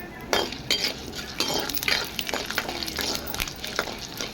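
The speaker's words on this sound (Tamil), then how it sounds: "உளுந்தம் பருப்பு நல்லா செவக்க வறுக்கணும்" Urad dal roasting and being stirred in hot oil in a pan, with repeated clinks and scrapes of a spoon against the metal over a low, steady sizzle, close up and without talk.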